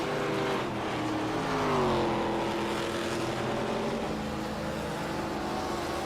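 Simulated ARCA race cars at Iowa Speedway in iRacing: engines roar steadily, pitch rising and then sliding down as a car passes, loud and unbroken with no voices.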